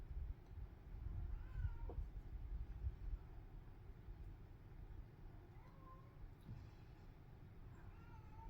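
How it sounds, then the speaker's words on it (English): A cat meows a few times at a distance, faint, drawn-out calls spread over several seconds against a low background rumble. "My cat's meowing because she thinks she's alone."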